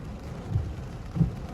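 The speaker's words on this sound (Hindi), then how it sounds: "बारिश पूरे ज़ोरों शोरों से हो रही है" Heavy rain pours down in Dubai as a dense, low, rumbling wash, with a couple of deeper thumps rising briefly above the steady roar.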